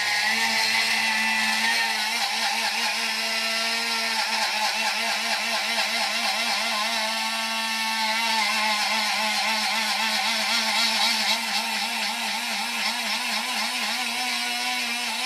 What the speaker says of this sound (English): I just kind of put, a half or so of regular sugar in my coffee grinder here